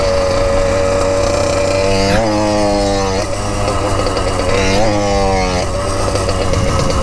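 Motorcycle revving hard while a rider pulls a wheelie at a training spot, engine pitch sweeping up and down in two surges, loud and close with a steady roar throughout.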